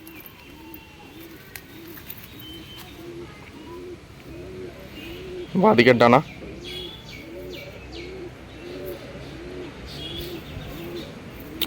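Andhra pigeons kept as a home flock, including single hens, coo in a steady run of evenly spaced low calls; someone speaks briefly and a loud burst of handling noise cuts in midway.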